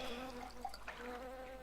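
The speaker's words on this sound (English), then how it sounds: "Running away from all the bees." Buzzing bees in the video game Star Stable Online, a steady droning hum that stays fairly quiet and continuous over the short stretch, with small chirpy game sounds mixed in.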